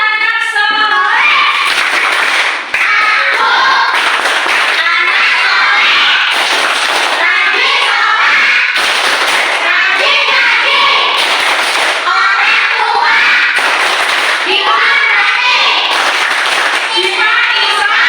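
Children clap the rhythmic 'tepuk anak soleh' chant in a classroom icebreaker, loud, dense bursts of clapping in a repeating pattern, with voices chanting along throughout.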